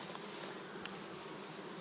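A dense, steady buzzing of many bees at a hive entrance, fairly quiet and continuous, like a swarm massed close by with no voices.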